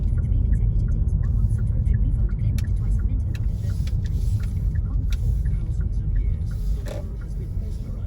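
A taxi drives past quickly on a road in Horsforth, Leeds, a continuous low engine and tyre rumble holding steady throughout and easing slightly near the end.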